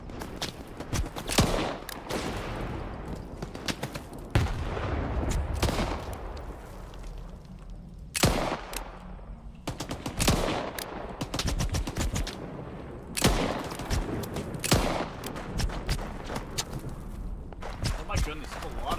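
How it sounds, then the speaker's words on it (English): Enemies fire guns in the shooter Stalker 2, repeated sharp shots and bursts cracking out at irregular intervals, some near and loud, some further off, over scattered footsteps and a talking voice. "Hey, please stop shooting at me."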